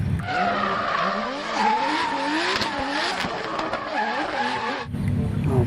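A toy race car sound effect of screeching, skidding tires with a revving motor, loud and continuous for several seconds before cutting off abruptly.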